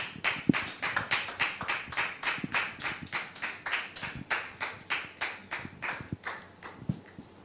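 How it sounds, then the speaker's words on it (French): Studio audience applause on a French television talk show, a steady rhythmic clapping in unison that beats evenly throughout, moderately loud in a large room. "Public, merci de le recevoir sous vos applaudissements"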